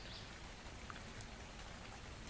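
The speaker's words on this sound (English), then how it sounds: "I was just about to go get hydration and it started raining." Steady rain falls in the survival video game Dark and Light, a faint, even patter of drops with no talking over it.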